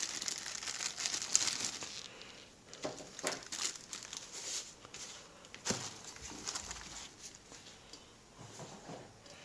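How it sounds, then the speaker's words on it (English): Seiko SPB199 watch being unwrapped from its plastic packaging, with close crinkling and tearing rustles that run in uneven bursts for several seconds. "take the watch out of its plastic."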